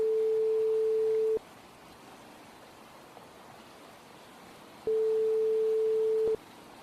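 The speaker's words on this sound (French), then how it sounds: "Il y a du réseau car j'entends la tonalité." A telephone dial tone hums as a steady pure tone for over a second, falls silent, then returns for another stretch, loud and clear over faint background hiss.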